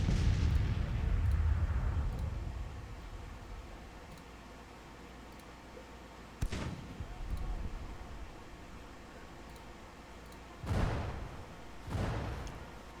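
Troops firing volleys in a Civil War battle in Grand Tactician, a low rumbling roar fading out, then a few sharp distant musket cracks spaced seconds apart over a steady hiss.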